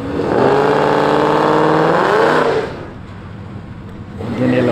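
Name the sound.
car revving during a burnout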